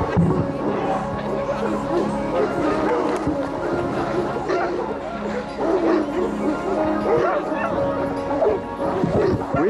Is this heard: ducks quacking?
no